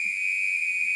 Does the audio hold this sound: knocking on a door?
no